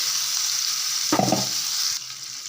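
Steady hissing sizzle of punarnava leaf chutney frying in a hot pan, with a brief stirring scrape in the middle.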